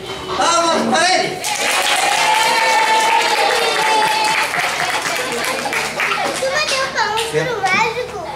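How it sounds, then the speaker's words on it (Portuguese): Children at a bookstore magic show clap and cheer as a group, loud and close, with excited kids' voices and shouts mixed through the applause from start to finish. "Palmas para ele."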